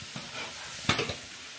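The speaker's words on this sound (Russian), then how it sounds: "сейчас я эту морковь крупно порезанную могу жарить столько, сколько мне это хочется" Coarsely cut carrots fry in oil for plov, with a steady sizzle and a brief clatter of stirring near the middle.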